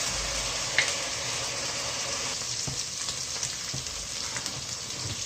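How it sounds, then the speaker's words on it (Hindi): Chopped chillies frying in a pan, a steady close sizzle with faint stirring scrapes and small pops, no voices. "साथ ही मिर्ची भी डाल देंगे, चाप हुई मिर्चें। अब इनको फ्राई करते हैं 2 मिनट।"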